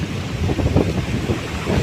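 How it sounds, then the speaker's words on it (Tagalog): Strong gusty typhoon wind at Manila Bay buffets the microphone with a low roar, mixed with the rumble of high-tide surf nearby. "lakas ng hangin guys"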